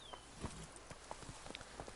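A horse's hooves clip-clop at a walking pace in The Witcher 3: Blood and Wine, with quiet, evenly spaced footfalls alone over a soft ambient background.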